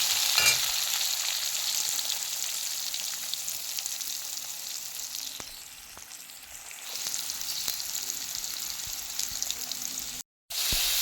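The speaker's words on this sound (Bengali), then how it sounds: "জিরা ফোড়ন দিয়ে দিচ্ছি, দিয়ে আলুগুলো দিয়ে দিচ্ছি। ভালো করে আলুগুলো ভেজে নেব" Potatoes with cumin seeds fry in hot oil, a continuous close sizzle with occasional stirring scrapes that dips briefly midway, then stops abruptly near the end.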